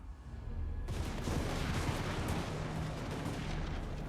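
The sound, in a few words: hand gunners firing in Total War: Warhammer video game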